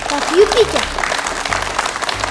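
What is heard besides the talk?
audience applause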